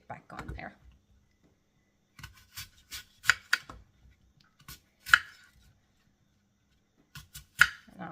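Knife slicing an apple on a board: scattered crisp cutting clicks and taps at an irregular pace, close and moderately loud, separated by quiet gaps.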